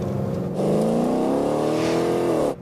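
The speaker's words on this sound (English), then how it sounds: "But listen to the engine. Flora's still accelerating." A car's engine revs and keeps accelerating on a driving course, its pitch climbing steadily and loudly for about two seconds before cutting off abruptly, with no talk over it.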